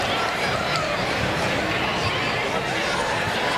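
Crowd of fans chattering in the stands at a girls' high school basketball game, a dense, steady indoor murmur of many overlapping voices with no single voice standing out.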